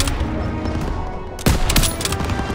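Bursts of rapid gunfire crackle through a World War II battle in Call of Duty WW2, a dense fusillade of overlapping shots with a sharp, loud volley near the middle.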